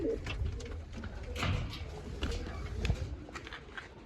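Pigeons coo softly and repeatedly close by, with faint shuffling and rustling in the background.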